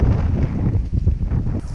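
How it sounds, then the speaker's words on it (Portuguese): Strong morning wind at a lagoon buffeting the microphone, a loud low rumble with gusty surges, continuous throughout. "E agora é de manhã e está ventando bastante."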